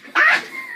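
A person imitating a dog barking during a party game, one short voiced yelp that rises sharply and then fades into a faint tail, heard close and alone.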